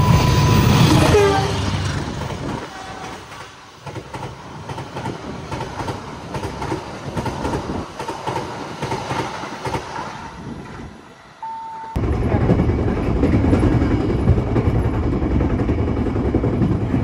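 Blambangan passenger train running on rails, a steady loud rumble with rail noise that drops briefly before a louder passage resumes, a short tonal beep sounding over it.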